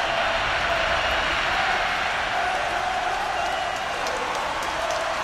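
A football stadium crowd in Champions Manager Mobasaka 2020 roars and cheers in a steady, dense wash that holds loud and unbroken throughout.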